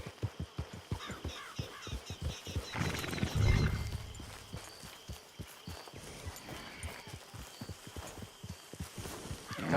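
A horse in the Red Dead Redemption 2 video game walking with steady clip-clopping hooves, a short whinny or snort midway, close and moderately quiet.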